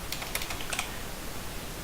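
Brief, quiet clicks of typing on a computer keyboard while compiling PHP from source, a few light keystrokes over steady background hiss.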